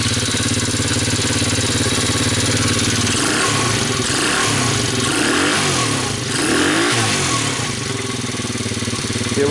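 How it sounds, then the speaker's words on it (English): A cheap Chinese ATV engine runs steadily and loud throughout, a continuous buzzing motor drone with slight dips in pitch, alone without talk. "So when I turn this, the motor's going to go around, the ignition is turned on"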